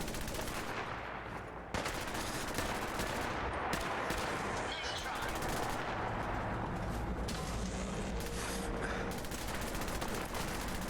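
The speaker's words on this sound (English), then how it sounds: "I have a bunch of ammo for it, and I can shoot so quickly, and it has a very long scope." Rapid rifle gunfire in the video game Fallout 4 crackles in dense, sustained volleys, loud and continuous, over a busy layer of game noise.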